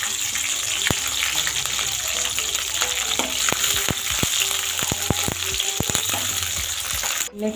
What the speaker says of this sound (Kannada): ಎಣ್ಣೆ ಕಾದಿದೆ, ಇದಕ್ಕೆ ಇವಾಗ ಹಸಿಮೆಣಸಿನ್ಕಾಯಿ ಹಾಕೊಳ್ಳೋಣ.